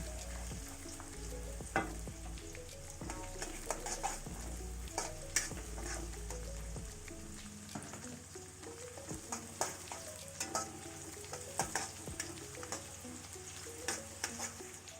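Garlic frying in a pan for a home-style Minang dish, a soft steady sizzle with stirring clatter and occasional scraping clicks, fairly quiet and close, no voices.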